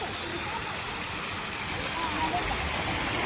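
Water from a fountain splashes in a continuous broad rush, with faint voices in the background.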